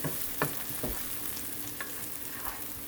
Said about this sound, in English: Sauteing my veg.